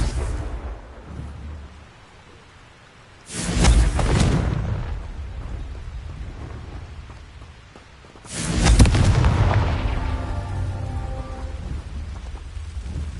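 Two heavy, booming blasts of the Confringo explosion spell in the Hogwarts Legacy video game, each a loud broadband burst followed by a long rumbling decay, with low ambient background between them.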